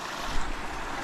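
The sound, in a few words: strong river current flowing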